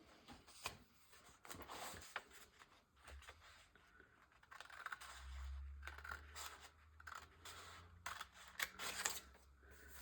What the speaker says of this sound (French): je vais venir couper au ciseau ici